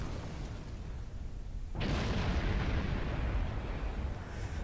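Starship weapons fire at a Borg sphere in the Star Trek Online space game, a sudden booming burst that sets off sustained loud, rumbling weapon noise continuing to the end.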